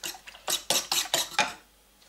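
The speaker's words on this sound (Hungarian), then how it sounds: "A tojást egyszerűen felverem." Eggs being whisked for a ham omelette, a utensil clattering briskly against a bowl in about six quick, close, fairly loud strokes before falling silent.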